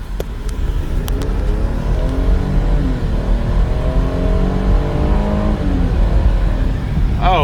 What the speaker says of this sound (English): Oh yeah, that Pentastar's got plenty of power.